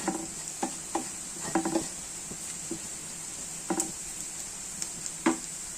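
Grated coconut is stirred in a frying pan over a constant hiss, with scattered scraping and tapping strokes at an irregular rhythm.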